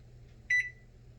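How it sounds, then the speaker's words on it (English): Sharp SMC1132CS microwave oven giving a single short, clear electronic beep, fairly quiet and close, over a low steady hum. "Oh, at least the beeping noise isn't that loud."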